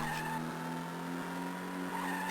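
A car skidding through a handbrake turn in the Stuntman Game Boy Advance video game, a thin, steady tire squeal with chirpy pulses over a faint engine hum, alone and fairly quiet.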